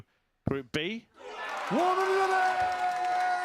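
Darts crowd cheering in an arena, a broad roar swelling up and holding steady after a short burst of commentary, with a sustained tone running over the noise.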